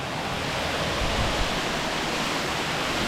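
Waterfall at Rufus Morgan Falls in the Nantahala Forest, a loud, steady broadband rush of falling water filling the whole short stretch without any talking.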